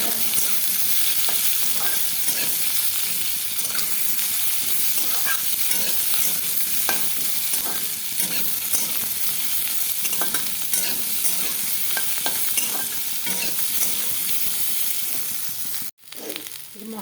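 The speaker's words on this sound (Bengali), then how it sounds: "মশলাটা ভাজা ভাজা হচ্ছে" Spices and potatoes for a vegetarian aloo dum fry in a pan, a steady close sizzle with frequent scraping stir strokes, then a brief dropout near the end.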